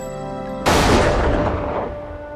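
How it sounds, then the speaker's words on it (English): Gunfire at a rifle range bursts in loud and close after a moment of sustained tonal hum, one sharp report followed by a long rumbling decay that fades over the next two seconds. "20-year-old Con Smythe doesn't mind the sound of gunfire."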